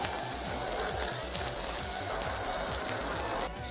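Water rinses Compound Speedy polishing compound, an oil-film and old water-repellent remover, off car window glass: a steady, close hiss of running water that continues without break, ending in a brief sharper splash.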